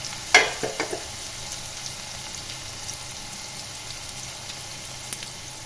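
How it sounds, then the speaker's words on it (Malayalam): Crushed garlic and slit green chilies sauté in hot oil in a pan, a quiet steady sizzle that opens with a sharp clatter of stirring and then settles into faint bubbling. "പച്ചമുളക് കീറിയതും അതിലേക്ക് ഇട്ട് കൊടുത്തിട്ട് നന്നായിട്ട് വഴച്ചെടുക്കണം"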